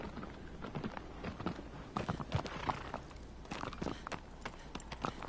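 Horse hooves clip-clopping in the video game Shadow of the Colossus, a rhythmic run of close, sharp hoofbeats at a steady trotting pace, with no voices over them.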